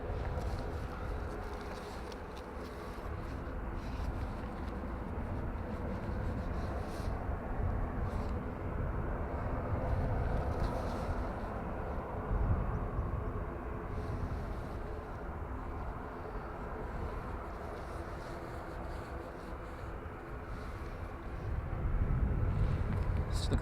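Ryanair jet on flight FR562 to Manchester taking off from Dublin Airport on a full-length runway, a steady low engine roar heard from a distance under wind noise and rising slightly at the end.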